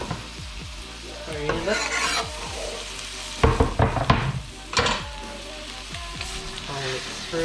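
Blue swimmer crab frying in butter and pepper in a pan: a steady sizzle broken by loud scraping stirs and spoon clatter, with a short spoken word over the cooking.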